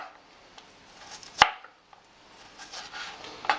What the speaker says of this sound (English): first thing I'm going to do is chop these onions up